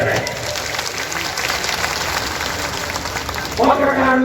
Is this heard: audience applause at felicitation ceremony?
yes